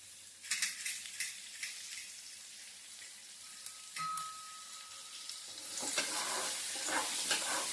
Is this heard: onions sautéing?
yes